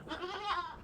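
A goat at a village home gives one close, clear bleat with a wavering, nasal pitch that lasts under a second.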